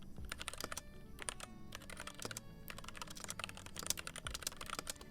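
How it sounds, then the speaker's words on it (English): Rapid, continuous clatter of keys on one of several computer keyboards, close and fairly loud, with bursts of fast keystrokes and brief pauses, no talking. "I have 5 keyboards attached to 2 computers, all for different reasons"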